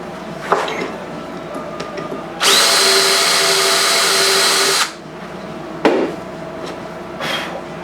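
A power drill bores small holes for guitar fret markers, running in one loud, steady burst of about two seconds between quieter clicks and handling knocks.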